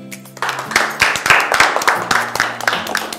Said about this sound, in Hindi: सारा के लिए भी बहुत सारी तालियां।